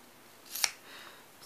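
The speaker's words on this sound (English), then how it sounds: "I just simply, again, scissors straight up and down" Scissors snip through cardstock around a stamped sentiment mounted on foam, giving one short, crisp cut near the middle, with quiet surrounding moments and no talking.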